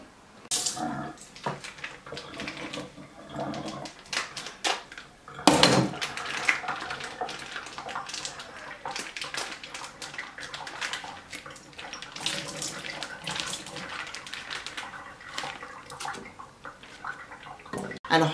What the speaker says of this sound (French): Alors, je vais aller rincer ça.